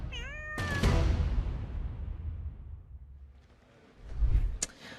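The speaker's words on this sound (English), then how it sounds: "Oh, we all love Larry the cat." Larry, the Downing Street cat, gives a single clear meow near the start, followed by low rumbling background noise and a brief thump near the end.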